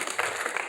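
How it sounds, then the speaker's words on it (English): Audience applause at a spiritual talk by J. Krishnamurti, a dense wash of many hands clapping steadily and fairly loudly throughout the brief moment. "may I most respectfully request that you don't clap"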